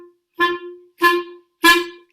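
Three short, detached staccato notes on a wind instrument, evenly spaced and fairly loud, each a bright, reedy burst with silence between.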